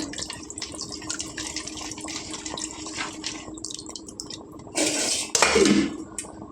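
Tamarind water strained through a metal sieve into a bowl, a steady wet trickle and light clinks of utensils, with a louder splashing pour near the end.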